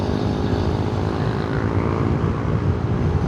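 Loud, steady wind roar from a Drive Plus balaclava flapping against a motorcycle helmet at speed, a dense continuous buffeting with no gaps, close to the ear throughout.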